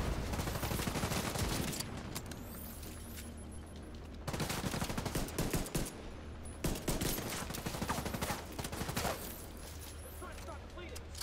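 Gunfire in The Division 2 while snipers engage, with bursts of shots in loud blocks separated by quieter gaps and a voice talking in places.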